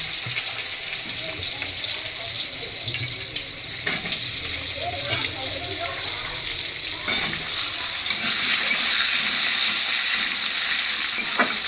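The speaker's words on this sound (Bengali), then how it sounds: "এই আলুটা আমি তেলের মধ্যে দিয়ে দিচ্ছি" Cut potato pieces hit hot oil in a pan for a Bengali bottle-gourd curry, giving a continuous loud sizzle with scraping stirs and clinks of the utensil. No one speaks.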